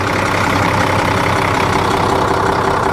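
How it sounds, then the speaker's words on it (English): A bus engine runs at a steady idle, loud and close, a constant dense rumble with no change in pitch and no voices over it. "we have to do this with the engine running because the engine provides us electricity"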